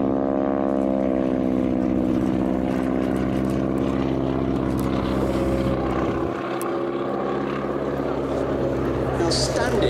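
At the Sywell Airshow 2024, a wing-walking display aircraft's propeller engine drones loudly and steadily with a rich harmonic buzz, its pitch shifting briefly midway as the pilot manoeuvres along the display line.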